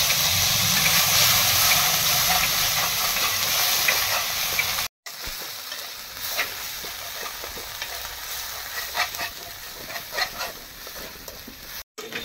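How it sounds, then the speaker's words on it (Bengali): Nigella seeds and ground spice paste fry in hot oil, giving a loud, close, continuous hiss and crackle with scattered pops. The sizzle drops out briefly twice. "কালো জিরেটা চটচট করে আওয়াজ হচ্ছে"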